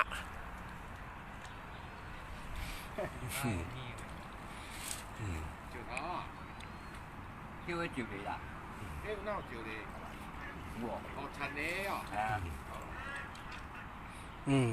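Ducks quack here and there over about fifteen seconds outdoors near water, mixed with frequent talking and background noise, the calls brief and moderately loud.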